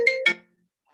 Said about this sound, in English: that's my phone connected to my computer and I couldn't stop